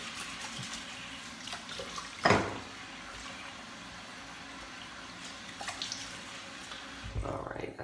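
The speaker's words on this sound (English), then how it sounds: "let me go ahead and rinse my face out real quick here" A tap runs steadily at moderate volume while a face is rinsed, with a few louder splashes breaking through the continuous hiss of flowing water.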